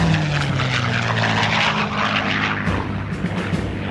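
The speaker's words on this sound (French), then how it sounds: "les avions effectuent des sorties de reconnaissance aérienne" A propeller aircraft flies by in a loud, steady engine drone with a pulsing rumble. It fades slightly toward the end.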